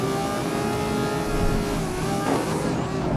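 A race car in the video game GRID 2019 accelerates hard with a continuous loud engine roar, the pitch climbing steadily and shifting near the end, with no talk.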